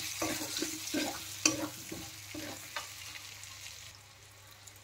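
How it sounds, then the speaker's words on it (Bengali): Potatoes frying with spices and turmeric in a pan, a continuous sizzle broken by several scraping stirs of a spoon, fading quieter toward the end, no voices. "মশলার সাথে আলুটাও ভালোভাবে ভাজা হয়ে গেছে, দিয়ে দিলাম হলুদ গুঁড়ো"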